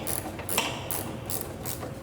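A socket ratchet clicks steadily while adjusting the headlight height on a Chevrolet Express van, producing a series of fast, even mechanical ticks in short bursts, close and alone without talking.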